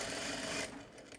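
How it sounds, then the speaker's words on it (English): Sewing machine stitching a horsehair braid hem, a quiet rapid whirring run that stops partway and gives way to a few faint clicks. "you can pin it down and sew it"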